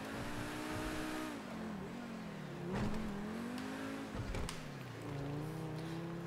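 In GTA Online, a car revs and slides, its engine tone climbing and dipping with brief bursts of tire noise, steady and without voices.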